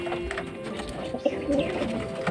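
Racing pigeons cooing and jostling as they drink electrolyte water after a training flight, soft close coos and fluttery calls overlapping in a busy cluster.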